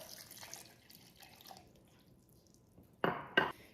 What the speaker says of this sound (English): I'm going to pour some water in with it